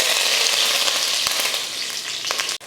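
Mustard seeds, urad dal and curry leaves crackle and sizzle in hot oil, a steady, close, dense frying hiss with scattered pops and no talking.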